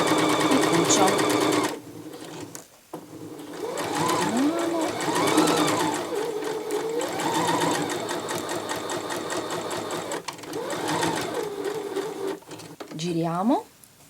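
A Necchi HP04 sewing machine stitches a fabric scarf, a loud close whirring run with brief pauses and restarts, while someone talks over it in Italian.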